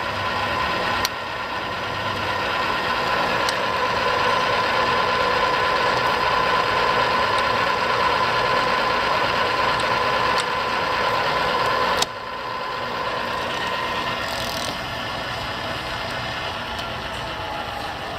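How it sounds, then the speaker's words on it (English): Arboga RLM3508 40 x 9 inch radial arm drill running its feed, a steady mechanical whir and gear hum with sharp clicks as the gearbox snaps into each range, loud and close with a sudden shift near twelve seconds. "every time you hit a gear range, it'll click in"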